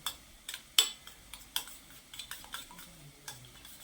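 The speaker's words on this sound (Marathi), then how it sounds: "इथं आलं लसूण कोथिंबीर याचा ठेचा घेतला आणि हे ना चांगलं असं मिक्स करून घ्यायचं" Chicken pieces mixed by hand with a crushed ginger, garlic and coriander paste in a bowl, giving soft wet squelches and light utensil clicks in an irregular rhythm, close and quiet.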